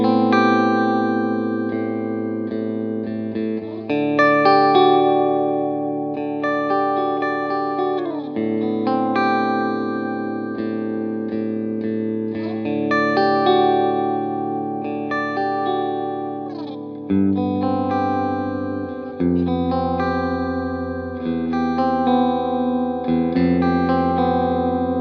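Electric guitar run through chorus, distortion and reverb effects strums a recycled pop chord progression, chords ringing and changing every few seconds in a steady, continuous lesson-style performance with no talking.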